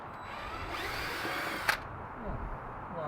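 A power drill whirs briefly while backing out rust-corroded screws from an outdoor fountain light, a short burst of motor whine with a sharp metallic click in the middle, close by.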